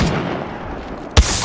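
Gunfire from Apex Legends Mobile, played as Gibraltar: a long dull rumble of game ambience, then one loud, abrupt, booming shot near the end.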